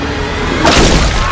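A sudden explosion bursts out mid-scene in a dark fantasy film with hunters, a loud broadband blast with a rumbling low tail that swells over the steady background score.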